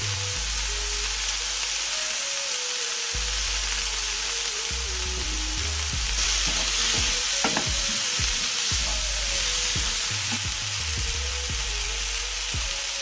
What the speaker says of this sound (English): And now I'm going to add in just this small amount of fresh ginger.